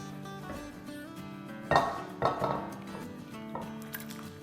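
Butter chicken is spooned from a pot into a serving dish, with a few metal clinks and scrapes of utensil on cookware, two louder knocks midway and quiet clatter after.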